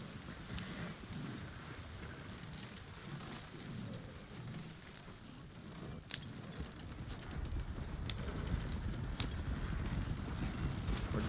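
A horse-drawn wagon rolls along in a video game, steady hoof clopping under a dense rumbling, rain-like wash that swells slightly near the end, no talking.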